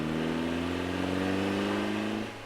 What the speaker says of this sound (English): I heard a car pulling up